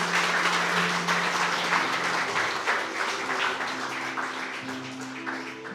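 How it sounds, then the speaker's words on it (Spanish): A church congregation applauds in a sustained wash of clapping, with steady voices or tones humming beneath, gradually softening over several seconds. "Dale un aplauso al Rey de Reyes."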